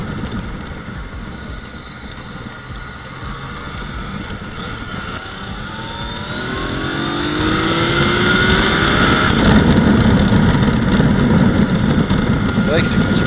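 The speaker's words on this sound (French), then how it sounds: "ce petit moteur il est quand même vachement plus sportif que la Honda" A Yamaha Tracer 900 motorcycle engine drones loudly while riding along a ring road, its pitch sweeping upward through the gears and growing louder midway, mixed with heavy wind rush and a voice talking over it.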